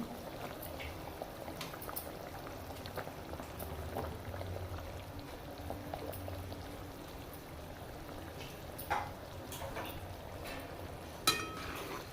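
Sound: curry broth boiling in a pot

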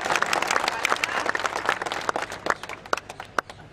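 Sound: applause from the rally audience

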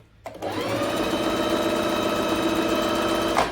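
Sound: Bernette B05 sewing and embroidery machine stitching at speed

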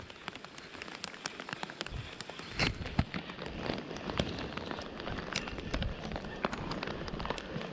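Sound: rain falling while fishing

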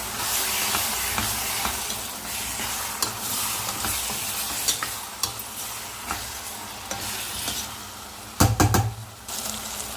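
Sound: stirring dried fish curry in a pan

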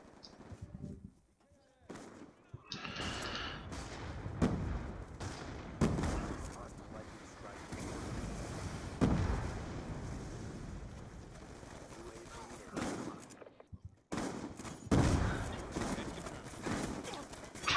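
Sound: MTAR assault rifle gunfire in Black Ops II video game

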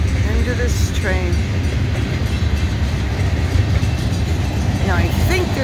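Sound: passing train

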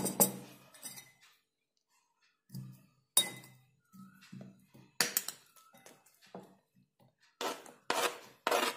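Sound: potato slices being put into a bowl

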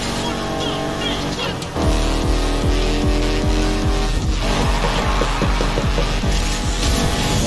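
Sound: race car driving in the video game Need For Speed Heat

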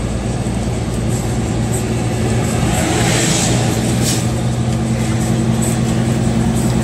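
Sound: truck engine brake at 1100 rpm

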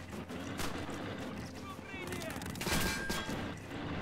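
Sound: gunfire from the video game Red Orchestra 2

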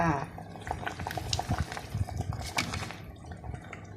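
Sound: Thai bamboo shoot clear soup simmering in a pot

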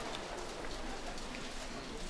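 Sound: rain falling at an outdoor trap shooting range

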